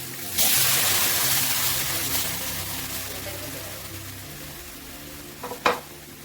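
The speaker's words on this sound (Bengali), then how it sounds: "এই মশলাটা আমি ভাজলাম" Ground masala spice paste sizzles and fries in a hot pan for a paneer butter masala, a loud steady hiss that starts abruptly and slowly fades, ending with a couple of sharp clinks near the end.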